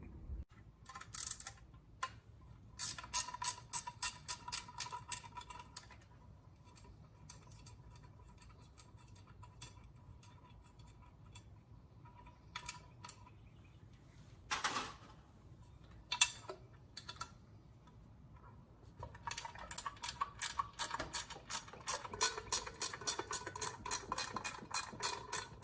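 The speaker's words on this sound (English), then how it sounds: "This is a 10 millimeter ratcheting wrench" Rapid clicking of a 10 mm ratcheting wrench working on the rear of a 1974 Kawasaki Z1 900 motorcycle during a drive chain change, in uneven bursts of ticking, close and fairly quiet, with pauses between runs.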